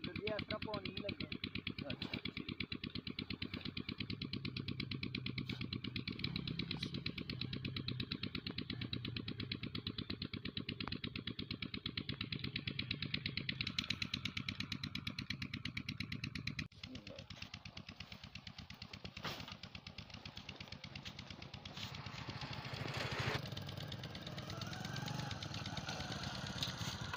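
A motorcycle engine runs steadily in a rural village setting, a continuous mid-pitched drone that dips briefly partway through, while someone speaks over it.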